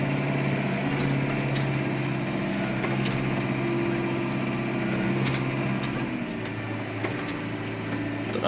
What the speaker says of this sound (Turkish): Traktörü soğuk olduğu için devir atmıyor arkadaşlar.